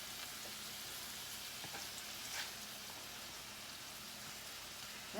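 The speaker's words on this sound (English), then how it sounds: "because I'm searing these on the outside of it with a little bit of color" Chicken burger patties searing in a hot pan give a steady, close sizzle of frying fat that runs unbroken throughout, with no voices.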